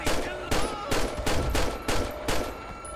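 Repeated gunfire in GTA V with the LSPDFR police mod, six loud sharp shots spaced roughly half a second apart, each trailing into a short echoing decay, no talk over them.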